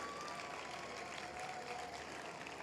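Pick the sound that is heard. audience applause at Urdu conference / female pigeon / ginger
audience applause at Urdu conference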